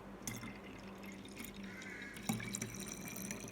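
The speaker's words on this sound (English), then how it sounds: "then we can pour the water into that" Water poured into a bucket holding a few pumps of dishwashing soap, a soft steady splashing and trickling that is quiet and close, with a small surge partway through.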